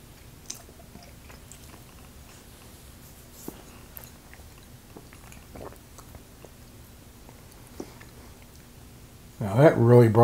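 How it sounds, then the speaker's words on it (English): Chocolate is chewed alongside a tasting of Square 6 wheated bourbon, with soft, sparse clicks and mouth sounds through a quiet stretch before a voice cuts in at the end. "Let's try it with a piece of chocolate."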